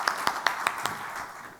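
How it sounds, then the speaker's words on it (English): Audience at a philanthropy summit panel clapping for the panelists, a short burst of sharp, distinct claps from a small crowd, close and moderately loud, fading after a second. "Let's give our panelists a big round of applause."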